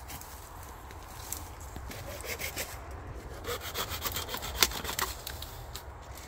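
A small-toothed hand saw cuts wood outdoors in a forest, with a quiet, repeated rasping back-and-forth stroke rhythm and occasional louder scrapes.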